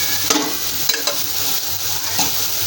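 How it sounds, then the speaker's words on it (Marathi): Tomato puree fries in oil for rajma masala, a steady close sizzle broken by a few soft stirring scrapes of a spoon in the pan. "टमाट्याची प्युरी टाकलेली, तेल सुटेपर्यंत चांगलं तळून घ्यायचं."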